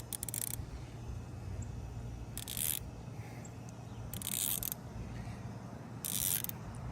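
The elevation turret on a crossbow scope is turned in four short bursts of rapid ratcheting clicks, each about half a second long and evenly spaced. The clicks are close and faint over a low background hum.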